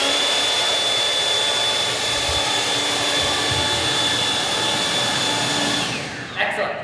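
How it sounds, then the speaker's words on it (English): Leaf blower roaring continuously at close range with a steady high whine, cutting off near the end as it winds down and a brief clatter follows. "Air that was coming out of the leaf blower was pushing in this direction"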